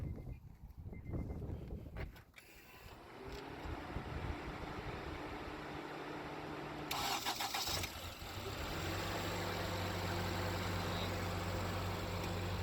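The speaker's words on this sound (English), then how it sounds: "Now we are just going to start the car and see if it start fine." A 2011 Acura RDX engine cranks and starts after a battery replacement, catching after a brief crank and settling into a steady, close idle hum with a slight rise in revs partway through.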